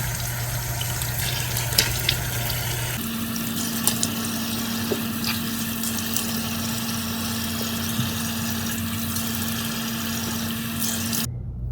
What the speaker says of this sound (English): Washing my face